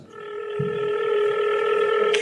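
A steady electronic telephone tone held close and clear, with a faint click near the end.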